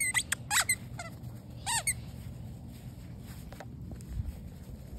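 A deflated rubber duck dog toy squeaks in a few sharp, high bursts early on, a pair followed by another, then fades to faint rustling and scuffing.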